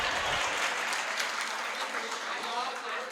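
An audience at a religious discourse breaks into applause, a sustained crowd clapping at steady strength with a voice faintly mixed in beneath.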